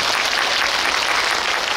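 Steady, dense applause from a cinema audience at a live talk for the Korean film Money at CGV Yeongdeungpo, continuous and fairly loud throughout with no pauses.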